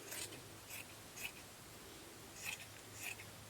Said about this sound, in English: So what I'm going to need to do is just cut this into strips across.